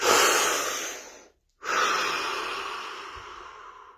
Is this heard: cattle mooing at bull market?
no